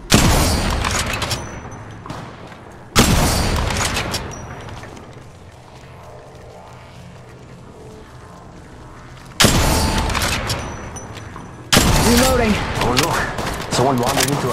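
Gunfire in Apex Legends played on an iPad, loud bursts of rapid shots in several separate volleys with quieter gaps between, under some game voice chatter.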